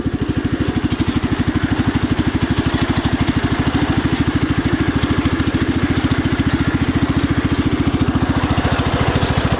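A Cub Cadet pulling tractor's engine running while driving, a loud, close, rapid steady thumping putter that holds an even rhythm throughout with no voices.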